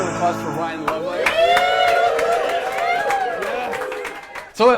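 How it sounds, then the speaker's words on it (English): An audience applauds and cheers for Ryan Lovelace as he is introduced. Scattered claps mix with whoops and voices, and the clapping swells again at the end. "Give a round of applause for Ryan Lovelace"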